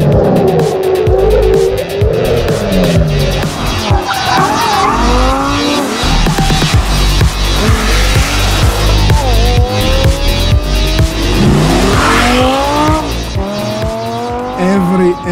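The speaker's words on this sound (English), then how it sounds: "The sound we generate with our engine is so special, so different." Lamborghini Gallardo LP 550-2 driven hard, its engine revving loudly through rising gear pulls with tire squeal, close and continuous, with a voice talking over parts of it.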